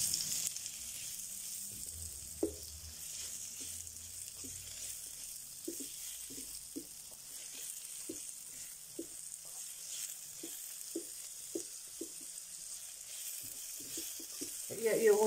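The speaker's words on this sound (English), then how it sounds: "Yeah, you're going to saute your onions." Onions sauté in a pan for homemade cheese and tomato soup, a steady faint sizzle threaded with soft clicks and taps of stirring, with quiet talk at moments.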